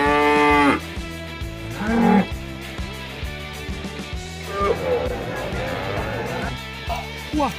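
Loud, repeated deep moos from a water buffalo over a rhythmic music track, with a brief voice near the start and end.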